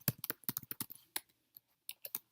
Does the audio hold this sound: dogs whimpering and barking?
no